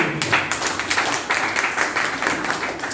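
Audience clapping at a gathering, a short, fairly close burst of dense hand claps with no voices over it.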